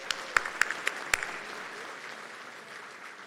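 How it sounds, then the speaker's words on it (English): An audience of more than 800 people applauds in a large room, with a dense, steady wash of clapping and a few sharper claps standing out near the start. "you should give yourself a round of applause"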